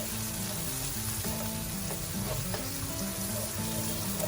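Chili paste for mee siam fries in a pan with a loud, steady sizzle that holds evenly from start to finish, with no voices.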